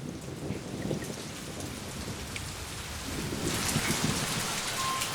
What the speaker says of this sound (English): It's dangerous to be caught in the open during a mountain storm.